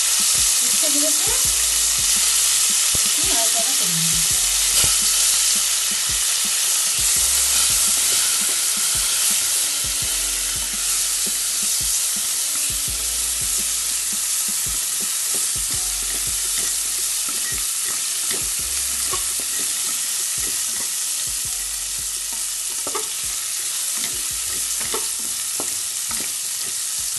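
Bitter gourd pieces rubbed with salt and turmeric fry in oil, a loud continuous sizzle with periodic stirring scrapes and low thumps running the whole time, no talking.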